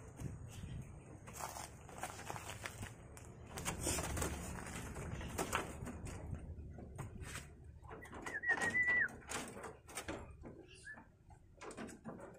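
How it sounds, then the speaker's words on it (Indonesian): Buffalo myna (jalak kebo), an aggressive eight-year-old male, gives a brief whistled call among scattered clicks, rustles and footstep-like knocks from a nearby enclosure, with other faint chirps around it. "kita lihat nih burung kita jalan kita nih dan jantannya semakin hari dia semakin ganas saja"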